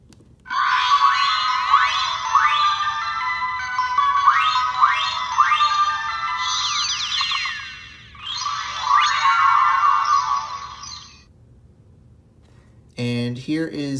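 A bright, chiming electronic transformation effect from a Sailor Chibi Moon Prism Heart Compact toy, repeated rising sparkly sweeps, loud and close, pausing briefly before a second burst, then a short different tone at the end.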